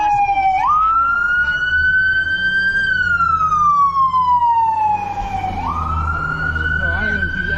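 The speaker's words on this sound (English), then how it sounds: "I just didn't want you to get hit by the ambulance." An ambulance siren wails loudly and steadily on a cold city street, its tone sweeping slowly up and down as it passes close by, over a low rumble of road traffic.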